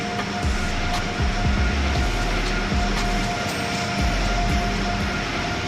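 A passing train on the Amtrak Northeast Corridor line near Trenton, New Jersey, heard in Train Sim World 3, rumbles loud and close with repeated rhythmic clacks of wheels over rail joints and a steady roar, no talking.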